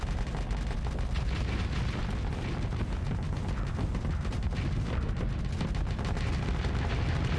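Ship weapons firing in the space combat game Starsector, a dense, continuous barrage of booming blasts and rapid shots that stays loud and unbroken throughout.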